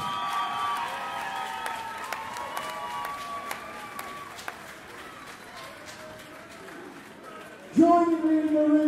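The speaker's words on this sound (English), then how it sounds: "please a huge round of applause for both boxers in that" Crowd applauding both boxers after a boxing contest in a ring, dense clapping and cheering filling the hall while voices ring out over it, with a sudden louder burst of noise near the end.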